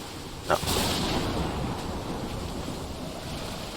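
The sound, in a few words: waves on a beach in video game Call of the Sea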